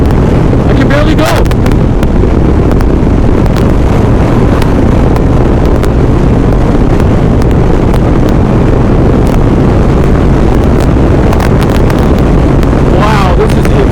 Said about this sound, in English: Oh, you freaking wind.